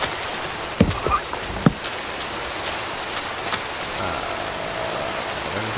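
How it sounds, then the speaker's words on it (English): Heavy Minecraft rain pours in a loud, constant hiss, with a few louder taps and thuds near the start and no talking. "This rain, though, my goodness, it's almost like we actually are in Florida. That is fucking rain."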